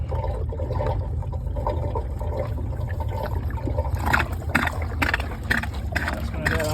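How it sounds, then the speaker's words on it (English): Water runs and trickles out of a Sta Rite pool filtration system as a screw is loosened to drain it, a steady low wash with sharper splashy bursts toward the end, under some quiet background talk. "That's going to let out all the water."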